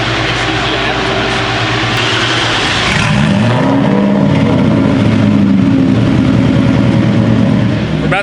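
A Ford Mustang with full bolt-on modifications revs up loudly on a dyno and holds a steady, rising roar, with a droning tone that climbs then levels off, close and continuous.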